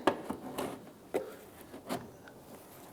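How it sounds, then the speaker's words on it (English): A plastic trim tool works into a panel seam on a 2008–2013 Nissan Rogue, making a few quiet scraping and creaking pulls, short rubbing bursts spaced about half a second apart with faint background in between. "Using a plastic trim tool, I'm going to come in right here, right where the seam is"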